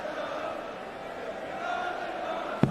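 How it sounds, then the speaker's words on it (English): A large darts arena crowd at Alexandra Palace fills the hall with a continuous dense murmur and cheering, steady and distant, ending with a brief sharp knock. "Incredible crowds."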